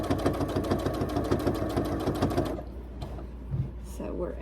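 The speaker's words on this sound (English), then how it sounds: "When we get to the corner, we'll just take it slow again and stitch around that edge." A sewing machine stitching around the corner of a quilt, a rapid mechanical whir for a couple of seconds that then stops, leaving a few quiet handling sounds.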